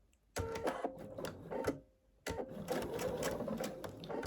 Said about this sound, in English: to the machine, and we're going to sew on that edge.